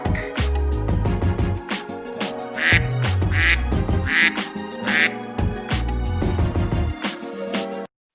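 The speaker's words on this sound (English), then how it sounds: "This is a duck. It makes the sound quack." A series of bright duck quacks rings out over a bouncy musical backing, spaced roughly evenly with short gaps between them.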